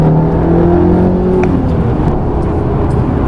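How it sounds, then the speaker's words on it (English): Euro-spec 2016 Audi TT TFSI roadster with a six-speed manual and 230 horsepower, engine droning steadily and loud as it pulls on a slick road, with a rising tone early on and no talking. "I'm driving the 2016 Audi TT. It's the TFSI version."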